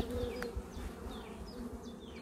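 Honeybees buzz continuously at an orphaned hive during an inspection of nectar-filled frames, a dense close drone with individual bees whining past.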